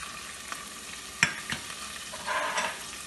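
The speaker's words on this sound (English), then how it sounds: "Just saute them." Spices sauteed in a pan for jackfruit biryani: a soft steady sizzle with a couple of sharp utensil taps and a brief burst of louder frying, close up, no voices.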